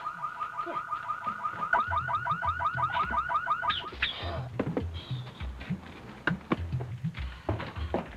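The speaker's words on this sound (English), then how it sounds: "Honey, is that our car alarm?" A car alarm chirps in a fast repeating warble, then switches pattern and cuts out, while a voice speaks underneath and afterwards.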